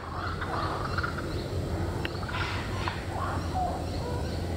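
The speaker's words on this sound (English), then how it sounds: "Kookaburra." A kookaburra calls outdoors in broken, throaty cackling bursts that rise and fall at a moderate distance over steady background noise.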